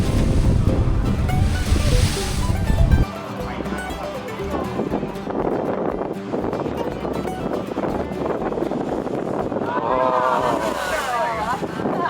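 Ocean waves surging against the southern Sri Lanka coast near a blowhole, a steady broad wash of surf with wind noise, loud and close throughout, stronger for the first few seconds.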